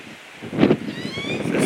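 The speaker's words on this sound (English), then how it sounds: "It's a pretty windy day" Gusts of wind buffet the microphone in uneven bursts outdoors at the Abilene Zoo in Texas, rising sharply about midway and continuing as a rough, rushing noise.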